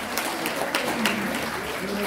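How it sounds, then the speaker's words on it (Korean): Hands clap together in a short burst of applause at a Korean women's association forum, a busy, close patter from a seated audience with a voice faintly audible over it. "큰 박수로"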